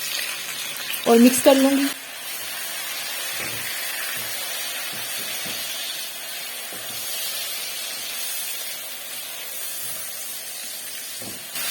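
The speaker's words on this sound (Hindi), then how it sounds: "बस 1 मिनट के लिए मैं टमाटरों को सौते करूंगी।" Tomatoes sautéing with onions in a pan for a chicken karahi, a steady soft sizzle and hiss running beneath a voice, with a brief louder burst of clatter near the start.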